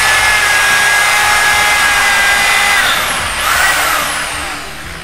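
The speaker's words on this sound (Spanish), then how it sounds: "voy a realizar la primera perforación con mi taladro" A power drill fitted with a depth-collar bit bores a dowel hole through a board held in a dowel-joining jig. Its steady, loud whine runs continuously, dipping briefly in pitch partway through before easing off near the end.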